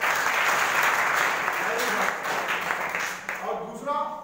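A school audience applauds with sustained, dense clapping that stays loud throughout and thins slightly toward the end, with some voices mixed in.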